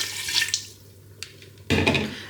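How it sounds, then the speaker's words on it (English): Vegetable stock splashes into a Ninja Foodi pot in short bursts, first a brief pour, a pause, then a louder gush of liquid near the end, close and without talk. "Add in your vegetable stock."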